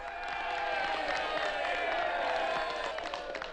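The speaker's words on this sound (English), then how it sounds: "you're cheering me" Crowd of citizens cheering and applauding, a dense, sustained roar of many voices and clapping that holds at a steady level throughout, with a faint voice mixed in.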